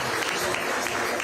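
Crowd applause fills a hall at the Business Daily Top 40 Under 40 Women awards at the Serena Hotel in Nairobi, a dense, steady clapping that holds evenly for a brief moment.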